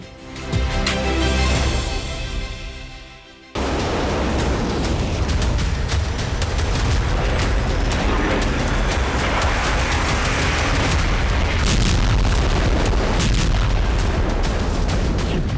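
Loud, continuous rumbling blasts and booming explosions at a Russian army weapons depot in Zaporizhzhia, Ukraine, with a brief lull near the start before a sustained, dense roar of detonations.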